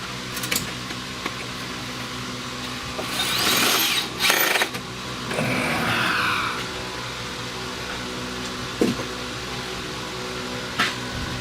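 A power drill fitted with a standard drill bit ground to a very sharp point bores into metal during Chevy Cruze serpentine belt and tensioner work. A steady mechanical whir swells for a few seconds midway over a constant background hum.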